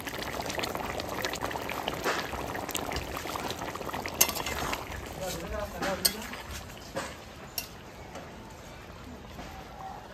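Fish curry simmers and bubbles in a wok, a dense soft boiling texture running throughout with a few sharp clinks from utensils.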